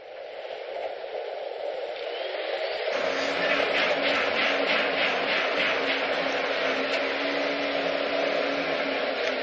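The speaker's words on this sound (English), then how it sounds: "They got both of the fucking choppers over there." Helicopters in an Xbox 360 video game give a steady, loud whirring drone that swells after a few seconds into a rhythmic chopping pulse, holding on continuously to the end.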